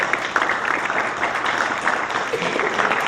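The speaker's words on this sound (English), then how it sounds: "let's give all our panelists a round of applause" Audience applauding panelists at a community panel discussion on state violence at a festival, a steady, dense wash of clapping filling the room throughout.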